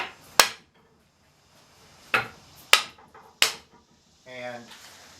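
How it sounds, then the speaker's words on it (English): Dead blow hammer seating an undercarriage part, four sharp solid blows spaced apart in a quiet room, followed by a short rattling scrape. "Now, get my dead blow hammer here."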